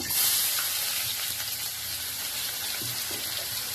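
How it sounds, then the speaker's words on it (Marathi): Cumin, asafoetida and finely chopped onion sizzle in hot oil for a sprouted val bean curry, a loud, steady, close frying hiss with a few soft stirring knocks and no voices. "आता आपण तेल टाकल्यावर थोडंसं जिरं टाकलंय थोडंसं हिंग आणि बारीक चिरलेला कांदा"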